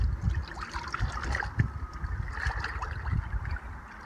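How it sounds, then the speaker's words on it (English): A bear hide being rinsed and sloshed around in a tub of cold bleach water, with irregular close trickling, dripping and splashing and no talking. "Now we're just going to give it a quick rinse in the bleach water."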